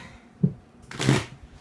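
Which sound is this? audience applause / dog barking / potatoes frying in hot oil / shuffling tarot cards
shuffling tarot cards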